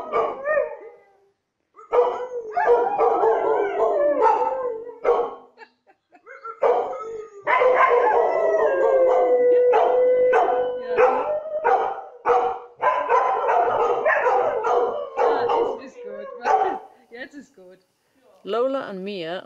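Two dogs howl and bark in long drawn-out wails broken by short pauses, loud and close, with people talking through it.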